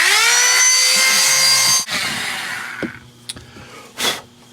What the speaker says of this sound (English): I'm going to use this high-speed cutting head on a Dremel type tool